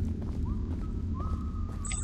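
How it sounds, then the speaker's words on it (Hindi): Someone whistling in the Choo Choo Charles video game, a few faint rising tones over a steady rumbling background. "सीटियाँ बजा रहा है कोई"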